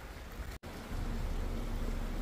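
Steady rain on a gloomy rainy day outdoors, a soft continuous hiss heard alone at low level with one brief dropout.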